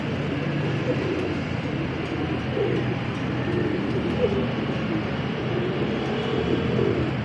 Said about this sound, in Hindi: बिल्कुल पैक कबूतर है।